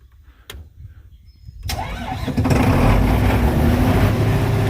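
A car engine cranks briefly and then catches, settling into a steady, loud idle rumble nearby.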